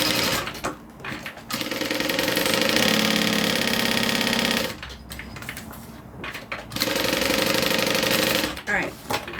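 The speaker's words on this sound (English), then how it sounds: "I'm going to do a second stitch over that wristlet strap attachment" A sewing machine runs in two long bursts stitching over a wristlet strap attachment on a bag, a loud, close, fast mechanical whir with short pauses and handling noise between runs.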